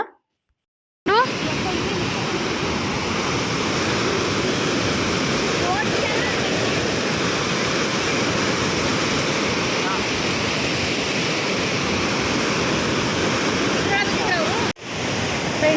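Water gushing under heavy pressure at Mari Kanive dam makes a loud, steady roar of broadband rushing noise, close and continuous for about fourteen seconds after a brief silent start.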